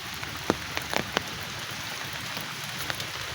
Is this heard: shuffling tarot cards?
no